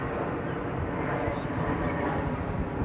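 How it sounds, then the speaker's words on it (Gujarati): A steady, broad engine roar of a helicopter flying overhead in Ahmedabad drones continuously, with no other distinct sounds. "અત્યારે હેલિકોપ્ટર થાય છે"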